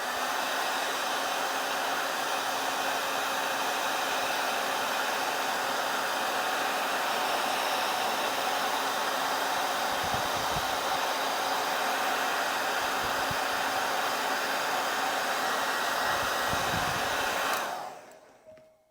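A heat gun heats lifting vinyl during a tear repair, blowing a loud, steady hiss of air up close for about seventeen seconds before shutting off.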